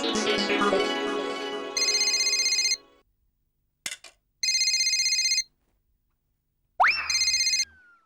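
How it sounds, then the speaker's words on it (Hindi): A telephone ringing in a sitcom household, three bursts of bright electronic trilling with gaps between them, following a stretch of background music. "ये बबीता जी को फोन करके खुशखबरी दे देता हूँ कि पेमेंट मिल गया है"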